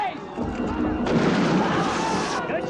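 Rifle fire rings out in a film battle scene, with overlapping booming shots and crackling echoes under shouting voices.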